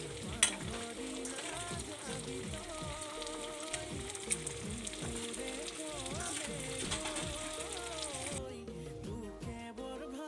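Boiled pork fries in a pan, giving a steady sizzle with a busy crackle while it is stirred. Faint music-like tones play underneath, and the sizzle continues throughout at moderate level.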